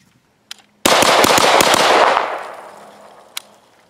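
A JP StagArms rifle in a 3-gun practice drill fires a fast, loud string of rapid shots, preceded by a single faint shot, then a fading echo tail and one later isolated crack.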